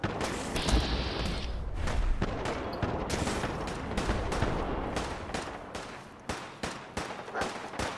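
Rapid gunfire from a firefight in Fallout 4, a dense run of overlapping shots that thins into separate sharp bursts near the end, loud and close with no talking.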